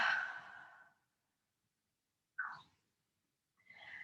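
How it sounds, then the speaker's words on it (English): A slow, breathy exhale through an open mouth during yoga, followed by a short puff and the start of another soft breath, close and quiet with silence between. "open the mouth, cleansing exhale"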